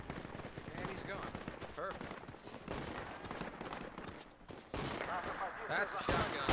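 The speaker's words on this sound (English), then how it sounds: "That's a shotgun." Shotgun blasts and other gunfire from a winter battle in the video game Project Reality, repeated sharp reports at varying distances amid rumbling combat noise, with voices talking.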